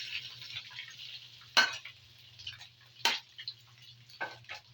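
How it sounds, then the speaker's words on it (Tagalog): Smoked fish (tinapa) frying in a pan in a home kitchen, a soft steady sizzle with a few sharp utensil clinks and scrapes against the pan, over a low background hum. "lutuin muna natin tinapa"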